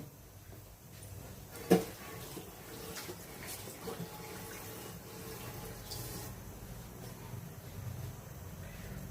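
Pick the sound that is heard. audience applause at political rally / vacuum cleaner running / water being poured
water being poured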